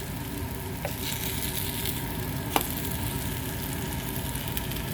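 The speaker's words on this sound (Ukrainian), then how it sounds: "Ну ось підсмажилась вже перша партія." Food sizzles and crackles steadily in a hot pan, a constant frying hiss with a couple of faint clicks.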